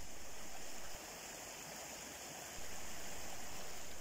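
The Nagold river in the Black Forest flows steadily past a hiking path. The rushing, broadband water noise stays continuous and fairly loud for the whole stretch, with no voices over it.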